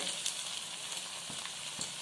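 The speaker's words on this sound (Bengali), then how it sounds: "ছেড়ে দিয়ে আবার গ্যাসটাকে বাড়িয়ে নিয়ে ভাজবেন ভালো করে, তাহলে মুচমুচে হবে" Semolina pakoras deep fry in hot oil, a brief, fairly quiet, even sizzle with faint bubbling pops, with no voices.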